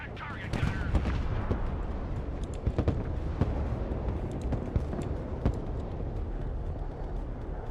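An armored vehicle fires in the military strategy video game Broken Arrow, with sharp, repeated gunshot cracks scattered through a dense, rumbling battle mix and faint voices in the background.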